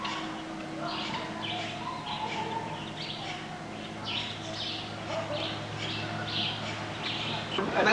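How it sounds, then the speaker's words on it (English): In Costa Rica after lunch, birds call repeatedly nearby with short chirps and tweets in an irregular rhythm over a constant low background hum. "We just had lunch, and so the birds come in."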